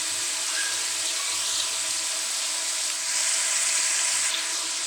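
Tomatoes fry in a pan as masala spice is added for chicken roast biryani, giving a steady, close, bright sizzle that swells slightly near the end, with no talking.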